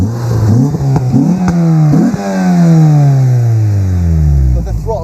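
A high-mileage Mini car engine starts and revs repeatedly up and down at close range, then a long climbing rev winds down, with a person talking briefly over it.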